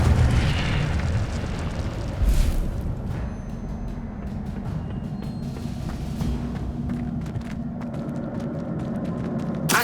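An Incendio fire spell cast in Hogwarts Legacy flares as a brief whooshing burst, then gives way to a steady crackling, rumbling roar with scattered small pops, moderately loud, and no voices over it.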